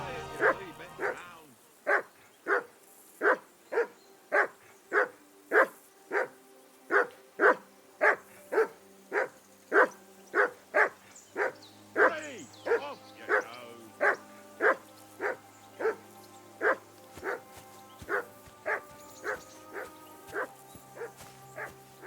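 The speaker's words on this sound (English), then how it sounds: "Do something with that mutt, Henry." A dog in the medieval game Kingdom Come Deliverance 2 barks steadily in a regular, rapid series of loud, close barks throughout, with a few whimpers mixed in and a low hum beneath.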